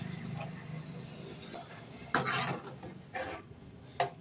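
Water is poured into a simmering tamarind kara kuzhambu curry in a home kitchen, a short splashing gush midway through, followed by a couple of smaller sloshes against quiet background clatter.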